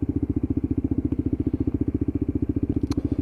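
A Lexmoto LXR SE Euro 5 motorcycle engine idles steadily up close, a fast even thumping pulse that holds for the whole stretch, with a brief high tick near the end.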